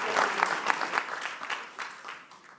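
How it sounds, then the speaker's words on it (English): A short round of clapping from an awards ceremony audience, moderately loud and fading toward the end, with individual claps standing out in the mix. "round of applause for you"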